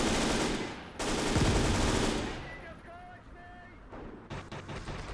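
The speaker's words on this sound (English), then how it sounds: "Okay, I can hear the mortar firing." Mortar and gunfire from the Gates of Hell war game, Soviet army defending against a German invasion: heavy dense rumbling bursts of fire, then quieter crackling shots with faint whistles and renewed bursts near the end, no talk.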